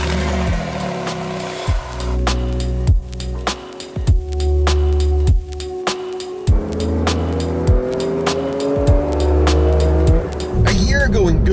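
A Porsche GT2 RS engine revs hard and shifts through gears repeatedly, rising and dropping in pitch, loud and close throughout, with brief tire noise.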